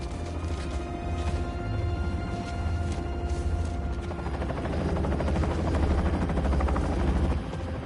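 A helicopter circles in the Spider-Man 2 video game, its rotor thumping as a continuous low pulsing drone under layered game audio and music, steady and fairly loud throughout.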